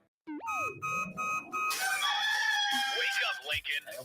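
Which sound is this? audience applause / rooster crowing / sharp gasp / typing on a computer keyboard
rooster crowing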